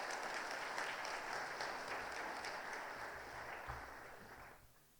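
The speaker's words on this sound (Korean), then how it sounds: "박수로 환영하겠습니다." A church congregation claps in welcome at a Sunday worship service, a steady wash of applause filling the room before it tapers off near the end.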